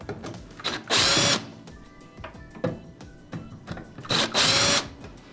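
A power driver whirs in two loud bursts as it backs screws out of the control panel of a Whirlpool oven, with clicks and handling noises between the bursts and no talking.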